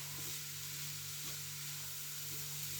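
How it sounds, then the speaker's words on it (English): Carrot and other vegetables with spices sizzle steadily in a frying pan, a constant bright hiss with a low hum and a few faint stirring scrapes. "Do that sizzling away now"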